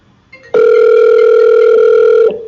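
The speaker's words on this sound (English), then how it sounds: "if I go back into Teams and I want to make an outbound PSTN call, I'll dial the same" An outbound PSTN phone call placed from Microsoft Teams rings with a single steady electronic tone lasting about two seconds. It is loud and clear, with nothing else heard.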